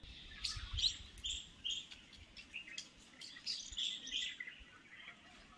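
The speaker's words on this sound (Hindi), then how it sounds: "ये जो चिड़िया है अपनी प्यास बुझा रही है।" Small bird chirping at a water seep at Ranthambhore Fort, with a series of short, bright, high tweets scattered through the stretch at moderate distance over faint background ambience.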